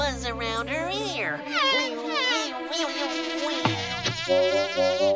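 A cartoon mosquito buzzing around a cow's ear, a high wavering whine that swoops up and down in pitch, close and prominent, mixed with other playful cartoon sounds and voices.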